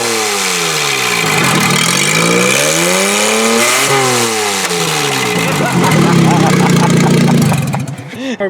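Car engine with a freer exhaust revving up and down in smooth, repeated swells, loud and close, with voices talking over parts of it.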